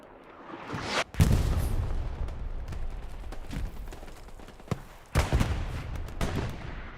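An artillery shell lands in the World War II shooter Hell Let Loose with a sharp, loud boom, followed by rumbling battle noise and a second heavy blast a few seconds later.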